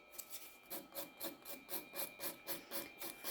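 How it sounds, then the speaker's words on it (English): A 180 grit file worked across a natural fingernail from sidewall to sidewall, making quick, even rasping strokes in a steady rhythm, soft and close with no talking. "filing from sidewall to sidewall"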